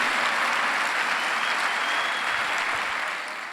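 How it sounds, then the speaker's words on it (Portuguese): Church congregation at a Sunday service applauding, a dense, loud, continuous wash of clapping that holds steady and tapers slightly at the end. "Dá um aplauso a Jesus"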